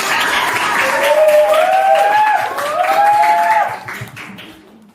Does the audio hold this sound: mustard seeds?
no